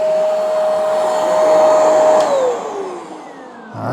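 A portable carpet cleaner from Hoover or Bissell whines steadily as it scrubs and suctions carpet, its loud motor tone dropping in pitch as the machine winds down near the end.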